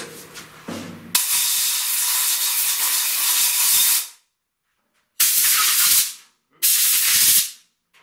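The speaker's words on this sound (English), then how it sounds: "So we'll just blow it out and put it back together." Compressed air blasts through a cleaned engine part, a Ford 460 C9VE head on a WWII DTR wrecker, in one long steady hiss and then two shorter bursts, loud and close, with silent gaps between them.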